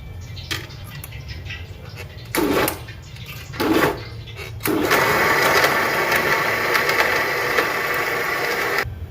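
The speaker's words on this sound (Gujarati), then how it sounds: "હવે આપણે મિક્સરમાં પીસી નાખીએ." Mixer grinder blending boiled dates into a chutney: a few short whirring bursts, then a long steady loud grind close by, with no talking.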